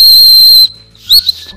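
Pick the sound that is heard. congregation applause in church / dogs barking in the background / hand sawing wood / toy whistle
toy whistle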